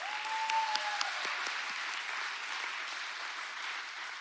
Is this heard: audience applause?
yes